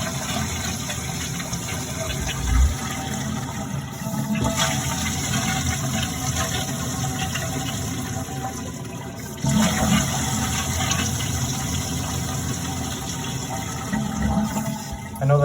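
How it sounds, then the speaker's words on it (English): A toilet flushing repeatedly after a new wax ring is fitted: a steady rushing gush of water with the tank refilling, running continuously and close with several surges. "I'll go ahead and flush it 5 times."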